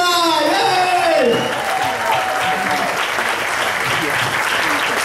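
Audience applause at an Indonesian event as a guest is welcomed, a loud dense clapping that fills the clip with a voice calling over it at the start, then settles into steady sustained clapping.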